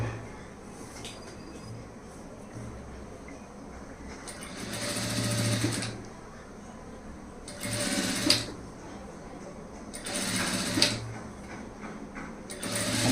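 Sewing machine stitching thread-cord piping along a fabric edge, running in three separate bursts of a few seconds each, close and fairly loud, with quiet gaps and a faint low hum between them.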